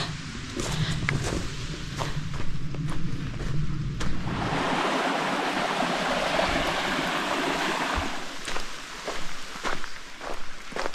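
A mountain stream at a hiking water source rushes steadily with a broad, hissing wash and some wind, while footsteps crunch nearby throughout.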